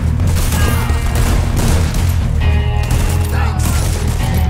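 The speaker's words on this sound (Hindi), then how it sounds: "ये लोग भाई गोलियां मार दे रहे हैं" Dense gunfire crackles through a shootout in the video game Red Dead Redemption 2, with rapid overlapping shots and booms forming a loud, continuous fusillade.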